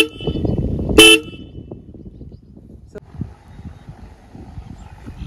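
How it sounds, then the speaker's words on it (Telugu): A Royal Enfield Classic 350 motorcycle horn gives one short, loud blast close by, followed by quiet, low background noise. "ఒకసారి మీకు హార్న్ ఇస్తాను."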